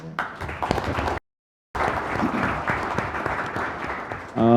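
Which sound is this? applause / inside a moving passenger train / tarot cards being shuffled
applause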